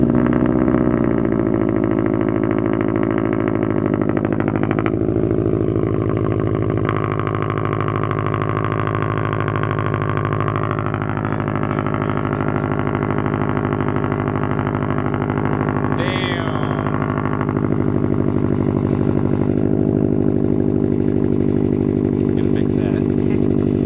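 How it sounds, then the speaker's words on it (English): A 2019 Subaru STI fitted with a Tomei catback exhaust runs with a steady, loud, deep droning exhaust note throughout, with small shifts in pitch and a brief higher whine partway through. "we're just gonna start it up and check for leaks"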